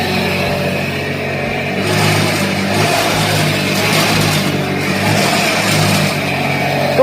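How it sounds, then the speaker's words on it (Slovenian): A small engine on a runner project revs and idles continuously up close, loud and rough with rising and falling surges, no voices. "Matija, dajem ti čas, da ugasneš motor."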